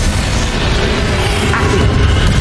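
A loud, sustained rumbling blast from a Confringo fire spell in Hogwarts Legacy, a thick wash of explosive noise that fills the whole stretch without any pause.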